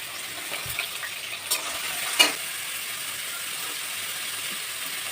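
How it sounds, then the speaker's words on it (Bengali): Carrots fry in hot oil in a pan for fried rice, giving a steady close sizzle throughout, with a few soft stirring scrapes and one brief louder clack midway. "ওই তেলের মধ্যে এবারে গাজরগুলো ভেজে নেব।"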